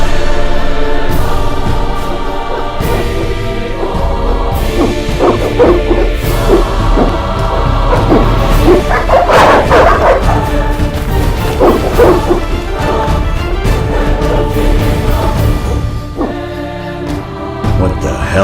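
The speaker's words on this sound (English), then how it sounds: "They're evil dogs." Hostile dogs in The Witcher video game bark and yip loudly and rapidly, snarling close up amid crashing impacts and game music, with a frantic, overlapping rhythm throughout.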